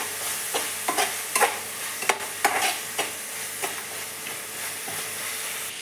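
Tomatoes fry with salt and chicken masala in a pan, holding a constant close sizzle while a spoon scrapes and stirs in repeated short strokes, some of them sharper and louder than others.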